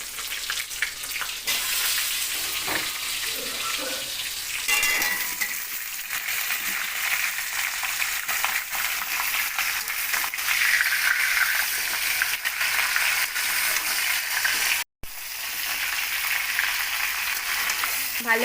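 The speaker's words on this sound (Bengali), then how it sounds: "ভালো করে আমগুলো তেলের সাথে নাড়াচাড়া করে ভেজে নিতে হবে।" Mango pieces frying in hot oil for a sweet-and-sour pickle, a steady close sizzle and crackle running throughout with occasional stirring clinks, no talk.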